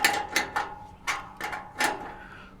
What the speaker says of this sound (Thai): เราก็จะขันตัวที่ 2 ทับเข้าไปอีกทีหนึ่งนะครับ